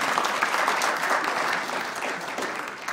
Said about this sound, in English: With round of applause